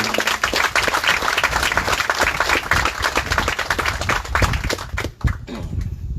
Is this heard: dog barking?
no